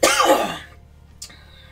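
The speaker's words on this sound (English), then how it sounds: "I coughed so hard" A hard, harsh cough bursts out loud and close in one wheezy fit that trails off, followed by a short gasp or throat sound, with no speech.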